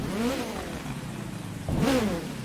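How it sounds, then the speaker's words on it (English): An Ariel Atom in The Crew 2 gives two quick engine revs, each a short rising-then-falling snarl, over a low idle rumble. "Oh, that little rev, but yes! Today we're here on the first day of the update with the new Ariel Atom."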